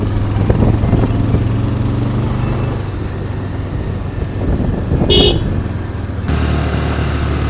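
A car is driven along a road near Kodaikanal, its engine hum and road noise steady throughout, with a short, sharp horn toot partway through and traffic passing around it.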